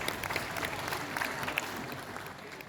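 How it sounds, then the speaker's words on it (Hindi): An audience at a cooperatives conference session applauds, a dense and steady wash of many hands clapping at moderate distance throughout, with no clear voices over it. "आप तालियों के साथ ज़रूर इस आभार में शामिल हों।"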